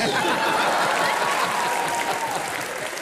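Studio audience at a comedy show clapping in a dense, sustained burst of applause with a few scattered chuckles, close and loud, tapering slightly at the end.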